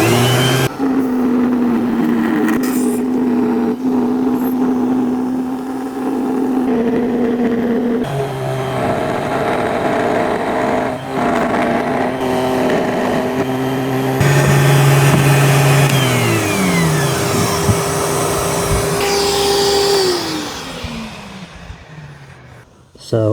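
A router cuts a wooden guitar body on a final pass: a steady, loud power-tool whine holds for a long stretch with shifting pitch, then winds down near the end as the motor spins to a stop.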